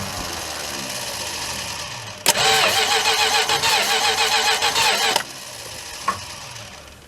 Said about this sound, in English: It turns over better than it did.